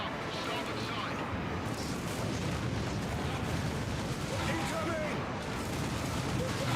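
Heavy bolter gunfire and battle noise in the Space Marine video game, a dense, continuous roar of shots and blasts filling the whole stretch, loud and unbroken.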